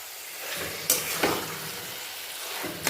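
Minced chicken keema sizzles softly in a pan while being stirred and fried down with spices. A low, steady frying hiss runs under a few sharp scraping clacks from the spatula, with no talk.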